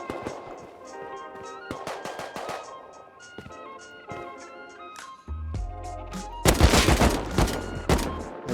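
Gunfire in the survival game Rust: scattered single shots and short bursts at first, then a loud, dense volley near the end, mixed with clattering game sounds.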